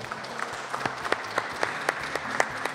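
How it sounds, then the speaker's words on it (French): An audience at a parish gathering in Mérignac applauds, a moderate, even patter of many hands with a few sharper individual claps standing out, steady for a few seconds. "On peut vous applaudir."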